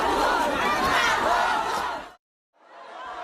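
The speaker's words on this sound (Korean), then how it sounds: "대구 서문시장에 들어서자 시민들이 환호합니다" Citizens cheer and shout as a politician enters Daegu's Seomun Market, a dense, loud crowd roar lasting about two seconds, then a brief silence before the crowd noise resumes more faintly.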